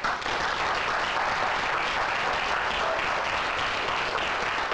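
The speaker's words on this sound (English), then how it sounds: "So let's give a round of applause for the Future Freedom Foundation." An audience at an Economic Liberty Lecture Series event applauds the Future Freedom Foundation with steady, even clapping that holds at constant loudness throughout.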